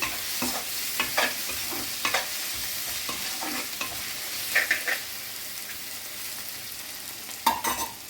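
Spinach and onion cooking in a pan, with a gentle, steady sizzle under repeated scraping and stirring strokes at irregular intervals, close by and with no talking.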